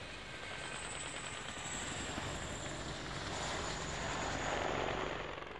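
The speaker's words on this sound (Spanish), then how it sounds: "lo que veíamos ahora era la verdadera pieza de artillería volante, ¿no? Los helicópteros de los cuales dimos mucho detalle ayer." Military attack helicopters fly past in a steady, loud rotor and engine roar with broadband rumble that swells slightly toward the end; no distinct weapon blasts stand out.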